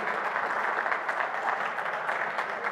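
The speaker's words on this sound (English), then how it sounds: "how about a big round of applause for Alex and Corporate Jet" An audience at a talk on charter aviation gives a big round of applause, dense and even clapping at a steady, fairly loud level throughout.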